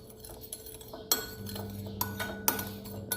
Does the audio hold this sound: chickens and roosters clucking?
no